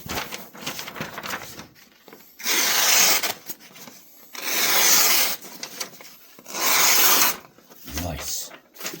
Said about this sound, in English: So, quick sharpen.